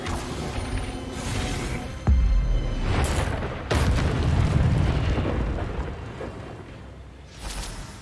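An Incendio fire spell fires in Hogwarts Legacy, setting off deep whooshing bursts and rumbling booms layered over a steady, dense roar, with sharp onsets at about two and four seconds and a smaller swell near the end.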